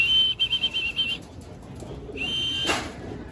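A racing pigeon comes back from its first training flight and flaps its wings into the loft, giving a quick run of close, fluttering beats. A brief chirp and some soft shuffling follow.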